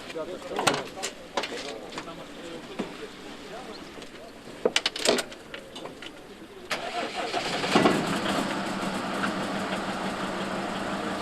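A car engine cranks and catches partway through, then settles into a steady running idle, after a stretch of scattered clicks, bird calls and pigeons, with people talking nearby.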